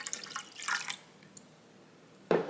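Cold water is poured from a cup into a bowl of dissolved gelatin, two short splashing bursts followed by a quiet pause and then another brief splash.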